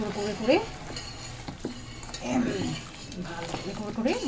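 Raw mutton with fat being worked and squished with spices by hand, producing soft wet squelching and rubbing sounds in irregular bursts, close up, with someone talking over it.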